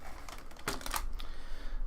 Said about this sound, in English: You are leaning on the keyboard, sir.